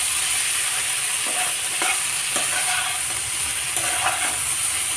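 Pumpkin, fish and onion frying in a pan, a constant loud sizzle with a few spaced spatula scrapes as the mixture is stirred, close up.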